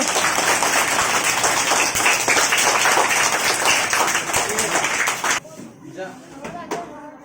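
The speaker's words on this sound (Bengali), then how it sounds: "সুন্দর হাততালি এদের জন্য" Schoolchildren in a primary school classroom clap together in a dense, steady burst of applause for about five seconds, then it stops abruptly and only faint room sounds and scattered noises remain.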